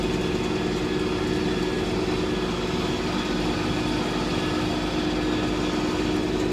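An open-station tractor, a 5065E, runs steadily at a hay field, a constant droning engine hum with no speech over it.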